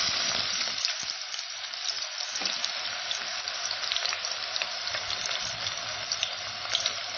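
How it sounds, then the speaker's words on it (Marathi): Chopped, salted onion drops into hot oil and fries with a steady, dense sizzle and crackle, close and moderately loud, with no talking. "या तेलामध्ये आता आपण हा कांदा सोडून घ्यायचा आहे"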